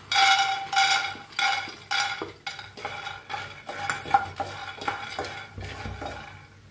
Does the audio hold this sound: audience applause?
no